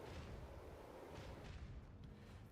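An artillery barrage in the video game Rogue Trader sounds as a dense, low rumbling roar of overlapping booms, steady and heavy throughout, with no talk.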